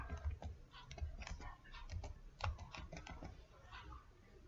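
A command being typed on a computer keyboard: a light, irregular run of close key clicks and taps, fairly quiet.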